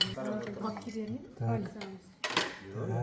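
Dishes and cutlery clink and scrape as food is served onto plates, with people talking nearby throughout.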